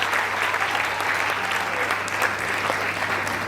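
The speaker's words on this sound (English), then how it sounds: "Please give him a round of applause." An audience claps steadily at a Rubik's Cube challenge event, honoring a piano accompanist with a dense, even round of applause that fills the room without any talk on top.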